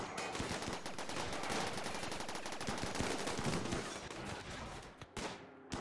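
Rapid gunfire from colonists shooting in RimWorld, dense overlapping shots crackling in quick bursts, loud and continuous before thinning out at the end.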